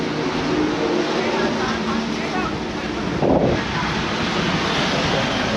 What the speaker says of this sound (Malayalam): വീശണ കാറ്റുണ്ടല്ലോ